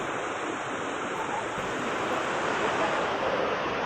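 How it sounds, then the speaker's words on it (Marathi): Heavy rain with rushing floodwater in the basement of Khandeshwar railway station, Navi Mumbai, a dense, steady roar of water filling the whole clip without any voices. "नवी मुंबईमध्ये अजूनही जोरदार पाऊस बरसतोय"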